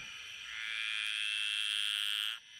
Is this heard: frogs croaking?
yes